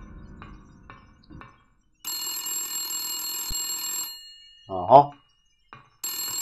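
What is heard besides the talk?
telephone ringing in video game Silent Hill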